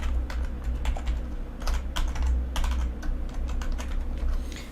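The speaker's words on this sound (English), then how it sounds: "after you're done typing your password" A password is typed on a computer keyboard, steady quick clicks of keys close up in a quiet room, with a few clustered bursts and brief pauses and no voices.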